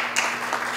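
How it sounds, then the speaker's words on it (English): A short burst of audience applause, dense and even, filling less than a second at a meet-the-candidate event for a city council ward seat. "it deserves a round of applause"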